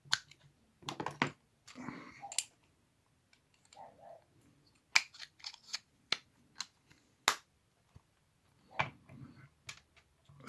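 Screws being driven back into the side plate of an Abu Sports Rocket 6600 baitcasting reel give sparse, quiet, close metallic clicks and ticks, separated by stretches of near silence.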